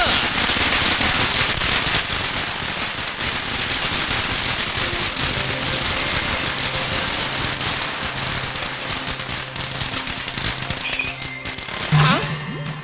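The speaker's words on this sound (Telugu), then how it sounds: "నాకు ఈ టపాసులు అంటే కొంచెం భయం" Firecrackers burst in a dense, continuous crackling barrage, loud and close, with a sharp louder pop near the end and voices faintly underneath.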